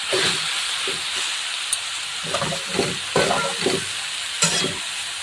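Wild forest vegetables sizzle loudly in a pan and are stirred in a home kitchen in Jalgaon. Steady close frying hiss runs under repeated scraping stir strokes, and no one speaks.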